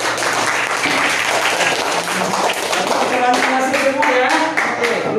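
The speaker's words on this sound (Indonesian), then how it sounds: "tepuk tangan buat kalian semua" A class of students applauds together, a sustained dense crowd of clapping hands that carries loudly and steadily throughout, with some scattered voices mixed in beneath.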